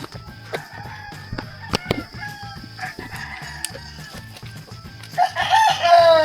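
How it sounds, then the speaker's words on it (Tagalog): A rooster crows outdoors in rural Tanay, Rizal, with clucking fowl around it; a loud crow rises near the end over steady background noise, with no talk. "Uy, may manok pa dito."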